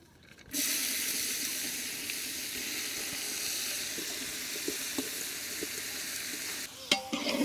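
Onions sizzle steadily in a hot pan, a continuous frying hiss with occasional soft stirring clicks, close up and without talk.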